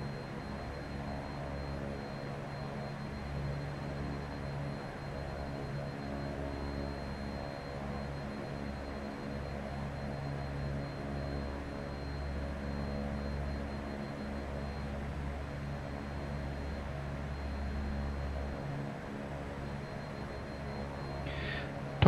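An Embraer EMB-110 Bandeirante twin-turboprop on its landing approach in a flight simulator: a steady, even engine drone with a constant low hum continues throughout at moderate level, with no voices.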